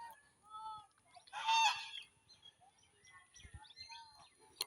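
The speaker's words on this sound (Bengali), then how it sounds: "হাঁসে ডাকতেছে" Ducks call near a village river, giving faint honking quacks with one louder burst of calls and scattered softer calls around it. The setting is otherwise quiet outdoors.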